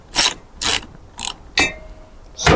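Gear shifter on a 6-speed MTD transaxle in a lowered MTD lawn tractor being clicked through its positions, five distinct mechanical clunks spaced about half a second apart, close and fairly loud with no talking.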